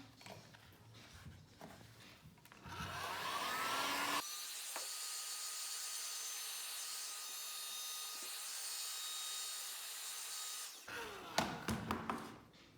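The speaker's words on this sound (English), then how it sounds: "So I'm going to take the heat gun again." A heat gun blasts hot air onto the toe puff stiffener of a handmade shoe, a steady loud whoosh lasting several seconds. Handling and tapping noises come before and after it.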